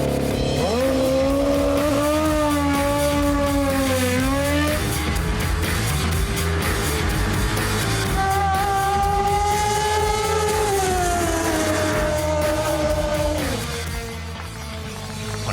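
A 400-horsepower drag bike tears down a drag strip, its engine screaming loud and continuous with rising pitch sweeps through gear changes, sustained for the whole run before easing slightly at the end.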